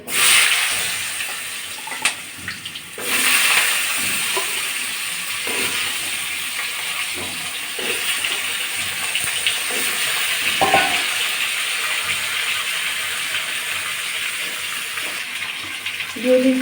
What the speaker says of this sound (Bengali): আর এই যে লবঙ্গ দিয়ে দিচ্ছি তেলের ভিতরে